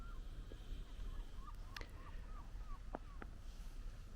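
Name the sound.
gulls calling on a small island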